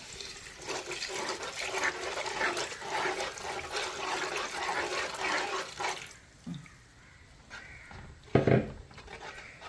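Second coconut milk poured into cooked jackfruit seeds for payasam, a steady close liquid pour for about six seconds, then a few soft splashes and clinks.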